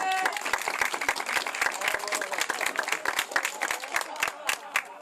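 Audience at an outdoor gathering applauds a sidecar motorcycle, loud dense clapping from a nearby crowd that holds steady for about five seconds, with a brief voice at the start.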